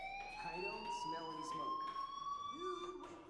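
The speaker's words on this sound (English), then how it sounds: "Hey, do you hear that fire alarm?" Fire alarm ringing in the video game Life is Strange, a steady high electronic tone with harmonics holding continuously, with voices talking underneath.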